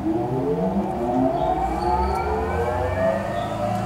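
A 10 ton swing arm press runs with a steady motor whine that slowly rises in pitch over a low hum, moderately quiet and close, with no talking.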